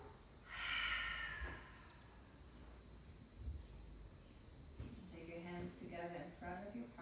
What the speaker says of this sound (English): take a big breath in and exhale through the mouth